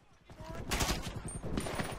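Automatic gunfire aimed at a helicopter during a co-op mission in GTA V Online: rapid bursts of shots, moderately loud and fairly close, coming in two clusters with game noise around them.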